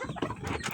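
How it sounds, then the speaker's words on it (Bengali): Chickens on a poultry farm give short clucks nearby, a few quick calls in under a second, with no talking. "এই দেখেন আমাদের মুরগিগুলো"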